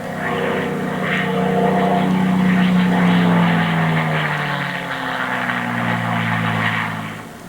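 Throaty propeller drone of a WWII warbird such as a P-51 Mustang at the Oshkosh EAA air show, loud and sustained as it passes, swelling and fading slightly with no speech.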